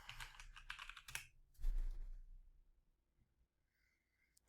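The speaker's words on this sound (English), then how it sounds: "Let me just type in Bastrop." Quiet tapping on a computer keyboard, with a short cluster of keystrokes and a thud followed by near silence.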